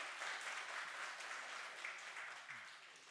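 A church congregation at a Sunday morning worship service claps together in sustained, fairly faint applause heard from a distance in the hall.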